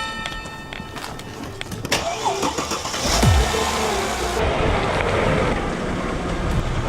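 A car drives toward a speed bump with the brakes applied at the last moment. The engine starts quietly, then rises into a louder drone, and a short descending whine marks the deceleration midway through.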